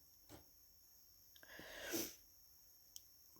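A single sneeze bursts out near the middle, quiet and close, with a faint sniff or breath before it and a small click afterward, in an otherwise quiet room.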